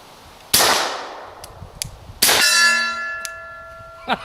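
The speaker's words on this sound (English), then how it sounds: "can you hear the contrast between the report from the muzzle and when it hits that steel" Glock 21 .45 pistol firing a subsonic round: a sharp muzzle report, then about 1.7 seconds later a bright ringing clang from the steel target that hangs and decays, with faint clicks in between.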